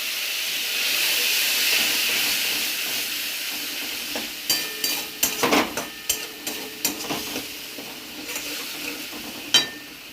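Ground cumin, coriander and turmeric frying with a splash of water for katla fish curry: a steady steamy hiss and sizzle, then a run of sharp spoon scrapes and stirring clicks against the pan.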